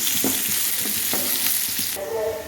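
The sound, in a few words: sautéing onion and beetroot in a pan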